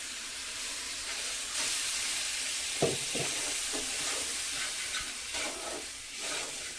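A lentil filling with salt is stirred in a hot pan for dal puri, with a continuous hissing sizzle and a few soft scraping knocks of the spatula against the pan. No voices are heard.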